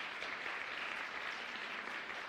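Applause fills a church sanctuary at an Easter service as the congregation welcomes a married couple: soft, steady, evenly spread clapping, fairly distant and quiet, with no break for its whole length.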